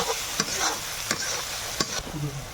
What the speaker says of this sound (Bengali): সর্ষে আর পোস্ত বাটা সেটাও এখন দিয়ে দেবো একটু মিশিয়ে নেব